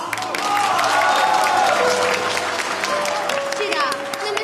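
Wedding guests at a group ceremony for five couples applaud and cheer in a steady, dense wash of clapping that runs throughout, with voices and a held musical tone over it.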